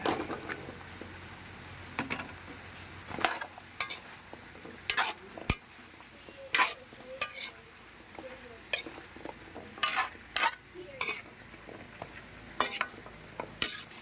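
Chunks of kalabasa squash sizzle in a pan with chicken, with a spoon scraping and stirring in repeated short bursts over a steady low frying hiss, close up and with no talking.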